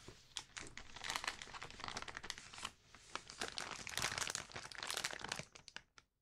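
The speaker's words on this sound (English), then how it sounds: "This is a plastic bag." A plastic bag holding Ethernet cables crinkles and crackles up close in quick, irregular bursts that go on throughout, quiet and intimate with no voices.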